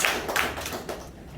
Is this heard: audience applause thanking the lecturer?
yes